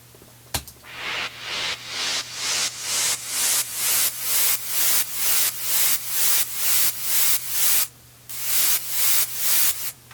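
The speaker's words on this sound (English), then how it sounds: "I always have my white noise as wide as I can, and I use the sample delay here in Logic." Wide white noise riser sample for a music drop, played alone as a train of loud, repeated swelling noise bursts that each build and cut off sharply, with a brief gap near the end.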